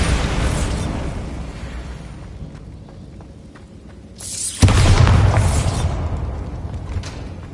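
A Bombarda spell explodes in the Hogwarts Legacy video game, a sudden loud boom that lands near the middle and is followed by a rumbling, crackling tail. A quieter stretch with soft mechanical clicks comes before it.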